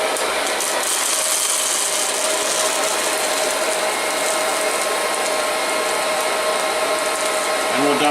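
An old hot-air popcorn popper heats up with a constant whirring, hair-dryer-like rush of fan noise, steady and close for the whole stretch.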